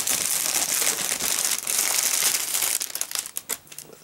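A plastic bag crinkles loudly up close as a Gundam RG Wing Zero Custom model kit is unboxed, with continuous crumpling that breaks into sharper, choppier rustles near the end.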